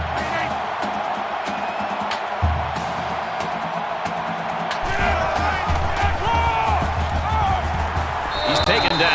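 Steady stadium crowd roar from a college football video game, NCAA 14, with Auburn playing at Alabama, rising louder partway through with scattered whoops and cheers and a commentator talking over it.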